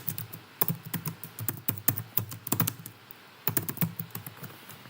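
Quick, light clacks of fingers typing on a computer keyboard, uneven bursts of keystrokes with short pauses between them, close and fairly quiet with no talk over it.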